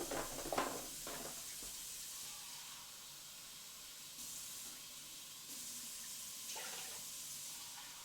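Water running from a kitchen tap for washing Japanese sticky rice, a quiet steady hissing stream with a few splashy bursts near the start and small shifts in flow later.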